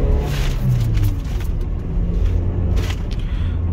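A Toyota Innova Crysta petrol MPV pulls hard in second gear, its engine a loud, steady rumbling drone heard from inside the cabin with no talking.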